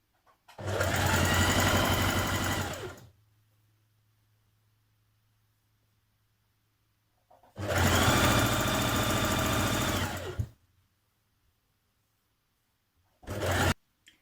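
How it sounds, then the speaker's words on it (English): Sewing machine stitching the inner leg seam of wide-leg trousers, running in two long steady bursts and a brief third, loud and close, with quiet pauses and a low hum between. "Next you're going to stitch your front leg to your back leg at the inner leg seam."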